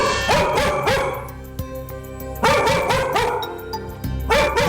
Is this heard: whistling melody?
no